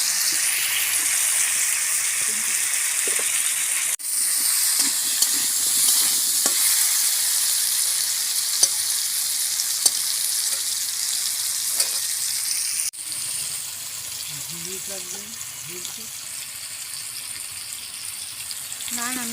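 Potatoes frying in oil in a home kitchen, a long steady hiss of sizzling with occasional pops, the level dropping abruptly twice and faint background sounds near the end.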